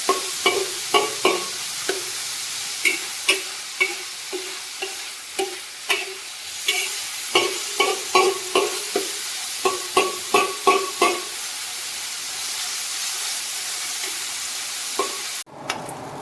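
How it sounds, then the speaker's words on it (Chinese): Fatty pork frying in a wok to render lard, a steady sizzle close by with a rhythmic series of scraping stirs throughout, no talking. "我们现在就是把这个肥猪肉的这个油把它拎出来啊，把它熬出来就可以了"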